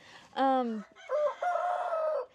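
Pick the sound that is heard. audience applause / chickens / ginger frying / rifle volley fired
chickens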